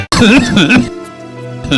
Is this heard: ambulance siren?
no